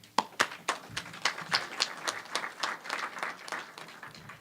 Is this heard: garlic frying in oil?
no